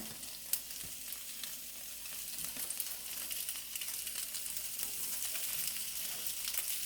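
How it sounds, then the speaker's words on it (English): Turkey burgers sizzle on a grill with a steady, close frying hiss and occasional crackles and pops, no voices. "our turkey burgers have been cooking for about 8 minutes now"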